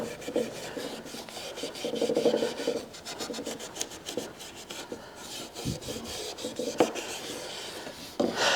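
Finish being rubbed by hand into the wooden parts of a treadle sewing machine under restoration, a close, steady rasping scrub in uneven strokes that continues throughout with brief pauses.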